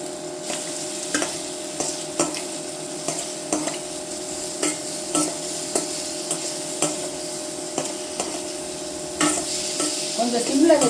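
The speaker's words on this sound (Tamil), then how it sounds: "டோஃபு லைட் ப்ரௌன் வர வரலும் ஃப்ரை பண்ணிக்கலாம்" Small tofu cubes frying in butter in a kadai over a simmer, with a steady soft sizzle and a series of regular clinks and scrapes from a stirring spoon against the pan, louder churning near the end.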